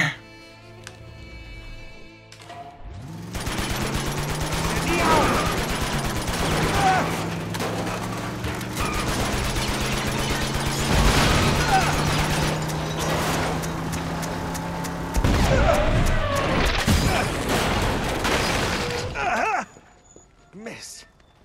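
Rapid gunfire and blasts from the video game Uncharted 2: Among Thieves roar continuously for a long stretch, with engine-like droning underneath, before cutting off abruptly near the end.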